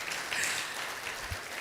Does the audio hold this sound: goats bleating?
no